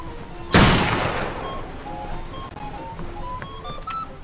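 A single loud gunshot cracks out in a Roblox Wild West game, followed by a long ringing decay with faint scattered in-game tones trailing behind.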